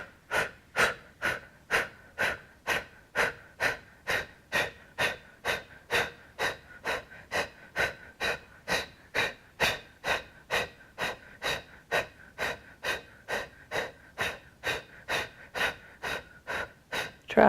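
Deep, steady breathing during a yoga session, about thirty evenly paced breaths in a continuous rhythm, close and clear with no talking.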